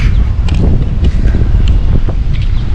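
Steady wind blowing at a riverside campsite beside a flowing river, a loud broadband rush with gusty rumble that persists throughout, low and close to the microphone.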